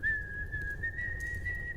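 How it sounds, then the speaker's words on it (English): A person whistles one steady, sustained note while walking through halls, fairly faint over a low background rumble. "sort of like whistling and walking through the halls"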